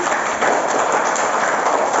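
A first-grade class of children clapping in unison, a brief, loud, dense burst of many small hands that holds steady for a couple of seconds with no voices.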